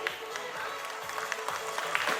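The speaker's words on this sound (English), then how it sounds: "Let's give her a huge round of applause." Audience applause at an award felicitation ceremony, a steady wash of many hands clapping at moderate distance with faint voices mixed in, sustained throughout.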